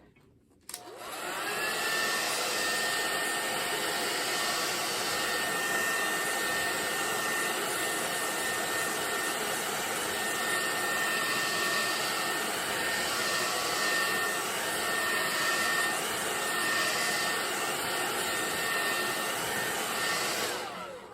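A hair dryer blowing on a painting, a loud, steady whirring roar that starts abruptly and runs unbroken for about twenty seconds, close by with no talk over it.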